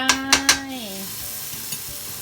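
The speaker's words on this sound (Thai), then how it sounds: "ใส่พริกเผาลงไป" Roasted chili paste hits a hot pan for a tofu stir-fry, opening with three quick spatula clacks and then settling into a soft, steady sizzle.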